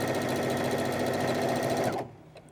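A sewing machine runs steadily as it stitches a flounce onto a skirt, a loud continuous mechanical whirr that cuts off sharply near the end, leaving quiet.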